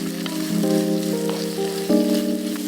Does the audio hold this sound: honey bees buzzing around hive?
no